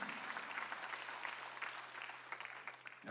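Congregation applauding during a Sunday afternoon church service, a steady wash of many hands clapping together for about three seconds before cutting off, with a faint low hum beneath.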